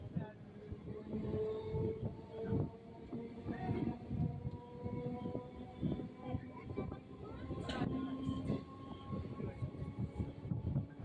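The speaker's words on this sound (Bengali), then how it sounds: "ট্রেন এখন মল্লিকপুর স্টেশন ছেড়ে বেরিয়ে যাচ্ছে।" A suburban train pulls out of Mallikpur station on the Sonarpur to Diamond Harbour line, with a steady, loud rolling rumble and rattling carriage noise throughout, plus occasional higher squeals and clanks.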